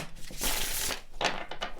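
Tarot cards being shuffled by hand, a dry papery riffle and crinkle that swells in a sustained burst, then returns in a couple of shorter bursts, close and fairly quiet.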